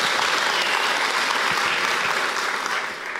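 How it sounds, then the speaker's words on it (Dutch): An audience at an evening talk event gives loud, sustained applause for a musician's performance, a thick continuous clatter of clapping that stays even throughout and eases only slightly at the close. "Geef hem nog in ieder geval een applaus"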